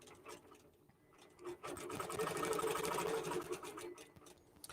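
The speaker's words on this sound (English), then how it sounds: "And now it's quilting that second row." Sewing machine quilting a row, a quiet, steady fast-stitching whir that starts in short bursts and then runs continuously for a few seconds before easing off; no talking.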